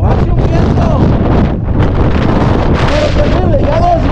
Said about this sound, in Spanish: Es un viento huracanado, en serio.